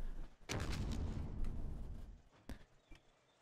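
Tank cannon fire in the Operation Flashpoint video game, a heavy boom with rumbling tail followed by two sharper, quieter shots later, close and punchy against a faint background.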